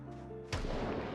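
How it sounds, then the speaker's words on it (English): A single distant gunshot rings out in Project Zomboid, a sharp muffled boom after a quiet ambient lead-in, with no voices. "Oh, that was a gunshot"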